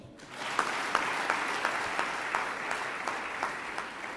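Crowd applause during a political speech in Angola, a steady moderate wash of clapping with a few sharper individual claps standing out at a regular pace.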